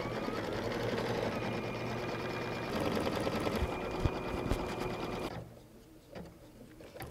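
Embroidery sewing machine stitching a puff foam design, a fast steady mechanical whirring and rapid needle chatter close by, stopping near the end and leaving a quieter hum with a few clicks.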